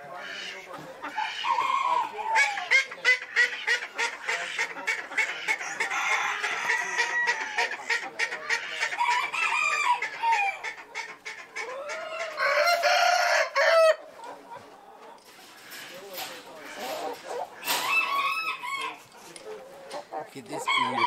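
Chickens cluck and a rooster crows repeatedly at a country show, close and lively, with other farm animal sounds and background noise mixed in.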